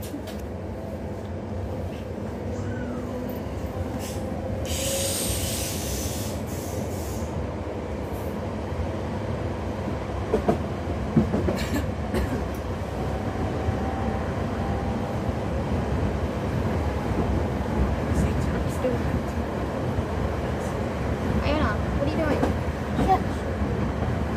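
A train rumbles along the railway between Croftfoot and Glasgow Central, heard from inside with a steady rolling drone, clicks and rattles from the carriage, and people talking over it throughout.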